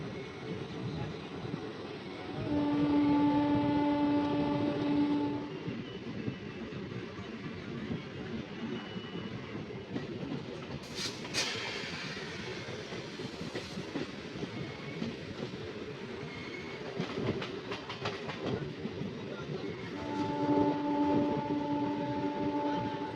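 An Asansol–Varanasi MEMU local passenger train runs steadily with a continuous rumbling rattle of rail wagons, punctuated by tonal horn-like hums near the start and end, with occasional clanks in the middle and no speech.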